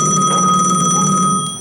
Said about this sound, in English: I know it's trouble when the phone rings at 9:30 at night.